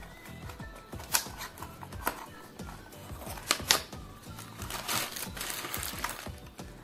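Small cardboard box of Antec NX800 mid-tower case screws being opened and handled, with close crinkly rustling, soft tapping and rattling clicks, several sharper snaps along the way.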